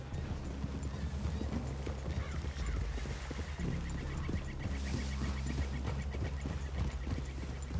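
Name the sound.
horses clip-clopping in a PS4 video game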